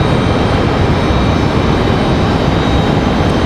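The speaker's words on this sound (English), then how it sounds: "Spirit Airlines is going to be our next arrival here on 23 right" A Spirit Airlines airliner arriving from New Orleans onto runway 23 right at Raleigh-Durham International, its loud, steady broadband jet roar filling the air close by with no voices.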